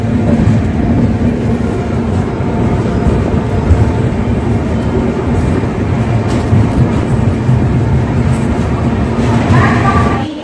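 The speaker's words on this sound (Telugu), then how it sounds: "1:10కి ట్రైన్ ధర్మారం చేరుకుంది ఫ్రెండ్స్." A train pulls into platform 1 at Dharmavaram railway station, a loud, steady, broadband rumble of wheels and engine close by that continues without a break.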